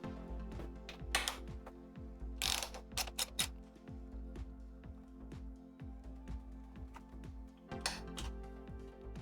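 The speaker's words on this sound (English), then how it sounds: "Next step is to remove the seat bolt with 10mm socket." A ratchet fitted with a 10mm socket works loose the seat bolt on a Kawasaki KLX 150 BF motorcycle, a steady run of close, rapid clicking strokes with short metallic clatters in between.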